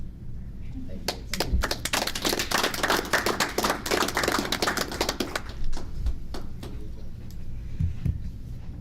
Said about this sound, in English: Finish the clap